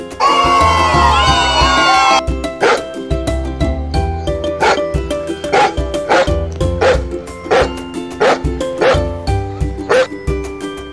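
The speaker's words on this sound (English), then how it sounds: "D for dog." Dog in a children's alphabet song, barking in a string of short, regular bow-wow yips over upbeat music, loud and near, following a brief opening of cheering crowd noise.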